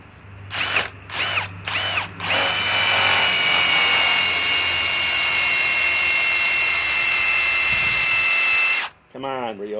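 A Ryobi PSBIW25 compact impact wrench on an 8 Ah 21700 battery runs under a hard load test, loud and close: a few short hammering bursts, then a long sustained high whine of about six seconds before it cuts off.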